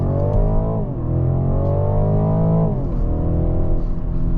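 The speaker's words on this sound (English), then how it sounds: "we're doing 20 and we're gonna do full accel in 3" A 2023 BMW 330e hybrid accelerating at full throttle from 20 mph, engine drone climbing steadily in pitch through two gear changes with brief dips, loud and close from inside the cabin.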